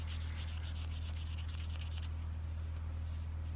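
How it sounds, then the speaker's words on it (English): High-grit sandpaper rubs lightly along a wooden crochet hook in quick, soft strokes for about two seconds, then the scratching fades, leaving only a steady low electrical hum underneath. "Sand symmetrically, lightly."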